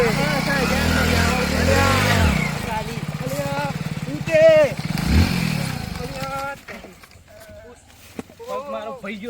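A motorbike engine rumbles and revs at close range, its throbbing drone fading partway through while people talk over it.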